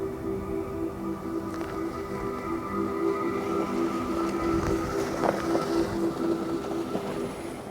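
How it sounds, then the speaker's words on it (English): A 2025 Cadillac Escalade IQ electric SUV on the move, heard as a steady, moderate rolling hum with road and wind noise and faint tonal whine, continuous with no engine sound and no talking. "we can at least hear what the Escalade sounds like when it's moving"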